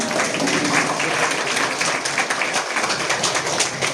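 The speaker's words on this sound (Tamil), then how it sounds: "தங்களுடைய கரகோஷத்தை எழுப்புமாறு கேட்டுக்கொள்கிறேன்." Loud, crowded applause at an outdoor public thank-you meeting held by a minister, many hands clapping in a dense, slightly uneven patter throughout, with voices mixed in the crowd.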